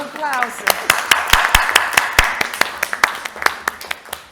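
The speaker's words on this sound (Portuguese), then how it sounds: "Um aplauso." A small audience at a science conference session on gender equality claps in crisp, scattered, fairly close claps after a short voice at the start.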